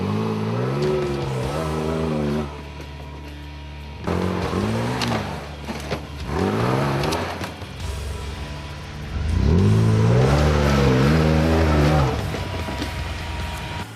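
Engine of a modified Suzuki Vitara off-road 4x4 at a winch challenge, revving hard in several loud bursts that rise and fall, with short quieter gaps between them.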